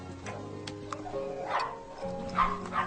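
A dog barks and yips in short bursts inside a home at Christmas, the sounds moderately close over a steady bed of soft background music.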